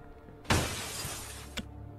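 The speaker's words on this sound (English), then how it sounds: "someone threw poop through the glass" Glass shatters in a video game as something is thrown through it, a sudden loud burst of breaking glass that sprays and rattles for about a second before a final clink.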